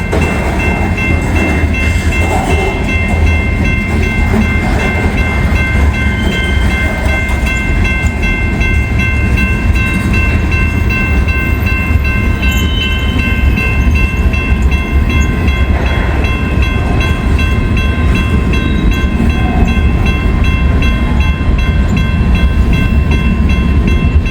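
A coal train passes near Covington and Latonia in sunshine, loud and steady, with rolling wheel rumble, clattering cars and a sustained metallic ringing tone running under it throughout; a horn sounds faintly.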